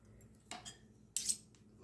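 Spoon scraping the inside of a tuna can, two short metallic scrapes about half a second apart, close and clear against a quiet room.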